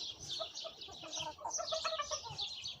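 Several Black Sultan chickens clucking and chattering close by, with a rooster among them, a continuous overlapping flock sound with no speech.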